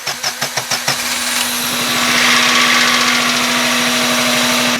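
A vehicle engine is jump-started by touching a multimeter lead to the small wire on the starter with the ignition on. About six quick, loud cranking chugs come first, then the engine catches and runs at a steady, close, rumbling idle.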